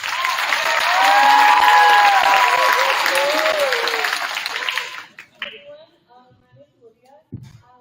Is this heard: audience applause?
yes